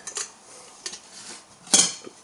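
Metal clinks and scrapes as a small metal wood gas stove is nested into a billy can, three sharp clanks, the last loudest, close by.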